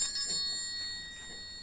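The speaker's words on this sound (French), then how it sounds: "Il marchait d'un pas relevé et faisait sonner sa sonnette" A mule's small bell gives a single bright ring that hangs and fades over a second or so, clear and alone.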